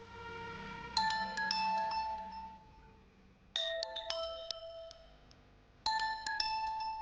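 A phone ringtone plays as a bright, melodic chime in a Telugu TV serial scene. It comes in three separate bursts, each ringing for a couple of seconds and then fading, with no talk over it.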